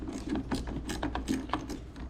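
A ratchet wrench works a stubborn 10mm battery bolt loose on a Mercedes ML55 AMG, a quick run of close, evenly spaced clicks with no talking.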